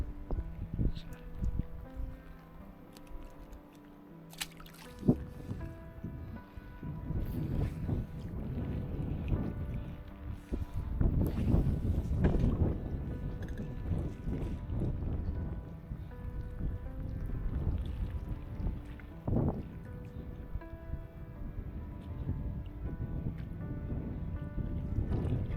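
Strong wind gusting violently outdoors near the water while fly fishing in northwest Scotland, a loud, low, continuous buffeting roar that swells and eases throughout, with no talking.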